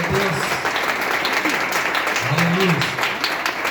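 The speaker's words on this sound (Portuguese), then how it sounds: "Só tem uma salva de palmas para Jesus." Congregation applause during a church gathering, a steady wash of clapping with faint voices murmuring and calling out underneath.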